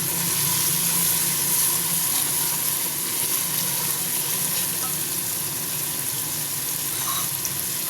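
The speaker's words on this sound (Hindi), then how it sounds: "इनको भी 20-30 सेकंड तक फ्राई करेंगे।" Ingredients fry in a hot pan for about half a minute, a loud, continuous hiss and sizzle with faint stirring scrapes, close and uninterrupted.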